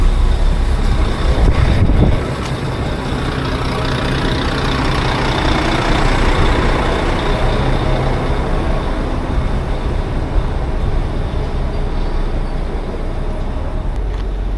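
A bus heading to Brunswick Heads, a loud, close diesel engine rumbling and idling steadily with traffic noise and no talk.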